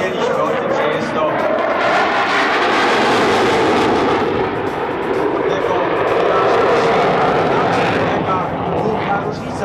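Loud, continuous jet engine roar from a French Air Force Mirage 2000C fighter at a flying display, a broad rumbling wash that stays strong and steady throughout, with a slight swell near the middle.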